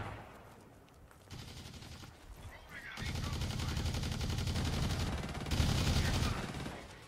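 Sustained automatic gunfire in the first-person shooter Blacklight: Tango Down, rattling bursts that grow louder and denser over several seconds as a voice talks quietly underneath.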